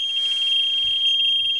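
A smoke alarm emits a steady, piercing high-pitched tone, continuous and unbroken, with faint low background noise underneath.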